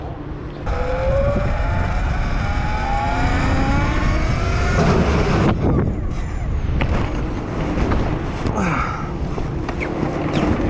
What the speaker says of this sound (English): let's go get these bikes upside down and have some fun